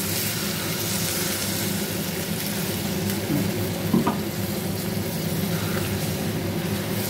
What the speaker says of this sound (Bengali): এবারে আমি জল দিয়ে দেবো, কারণ কষা হয়ে গেছে, একটু জল দিই